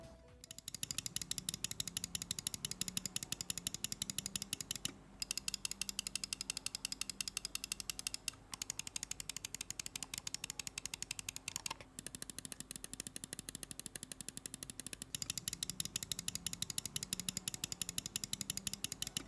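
Rapid, sharp mouse-button clicks from a Lamzu Thorn x Fnatic gaming mouse repeat in fast bursts, with brief pauses between runs; crisp, close and mechanical, no talking.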